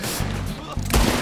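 Pistol gunfire in Red Dead Redemption 2 Online during a showdown: a couple of loud, close shots with a heavier blast near the end, over game background noise.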